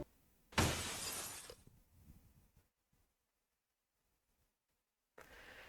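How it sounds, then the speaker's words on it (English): Glass shatters loudly inside a house, a sudden crash with a long scattering tail of fragments. Quieter clatter follows, then near silence before a muffled low noise returns. "the unmistakable sound of shattering glass, followed by raised yet indistinct voices emanating from the house"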